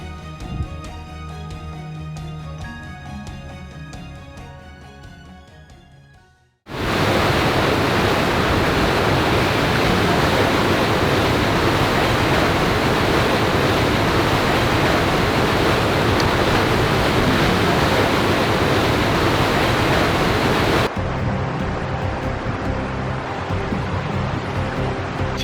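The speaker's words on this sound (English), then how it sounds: "So that was Skelwith Falls, which is the first stop on our tour of some of the waterfalls and caves here in the Lake District." Skelwith Falls, a waterfall in the Lake District, roars as a loud, steady broadband rush of falling water for about fourteen seconds, with quieter ambient sound before and after the torrent.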